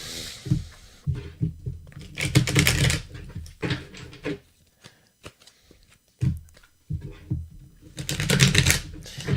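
Tarot cards being shuffled by hand in bursts of papery riffling and slapping, several rapid flurries separated by brief pauses, fairly close and loud.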